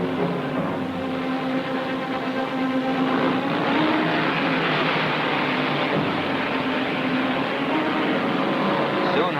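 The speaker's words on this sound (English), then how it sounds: "the 2 men, Ward and Thompson, battling it out in the straights, through the turns" Indianapolis race cars roar continuously as they battle down the straights and through the turns, a loud, dense engine drone with no break, heard from close to the track.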